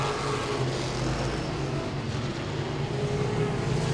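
Modified race cars roaring around Langley Speedway, a continuous loud engine drone from a pack of closely bunched cars, steady with no break, and no voices.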